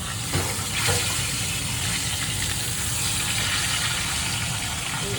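Chicken chop frying in a pan for restaurant-style chicken chap, a steady loud sizzle and hiss of hot oil running throughout with a few brief louder spatters near the start.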